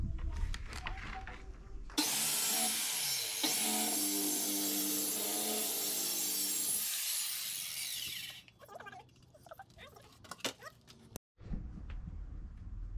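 A power saw cuts filmed plywood inside the luggage hold of a coach being converted into a camper. A loud, steady whining cut runs for about six seconds, followed by quieter clatter from handling the board.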